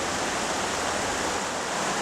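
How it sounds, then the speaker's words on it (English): A small creek running about ten times higher than normal with heavy snowmelt in California woods, giving a steady, loud, close rush of water that stays even from start to finish with no voices. "we have my little creek here nearby. It's running 10 times higher than normal for this time of year"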